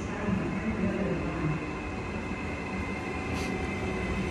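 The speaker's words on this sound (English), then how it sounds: "Train is coming." An Italian train rumbles into Pisa station steadily, a low continuous mechanical drone with a faint high squeal near the end.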